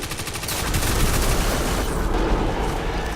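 Weapons fire in Destiny 2 crackles in a dense, rapid barrage of shots that stays loud and busy throughout.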